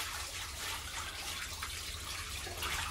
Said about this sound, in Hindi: बाल्टी का पानी ना थोड़ा कम कर दे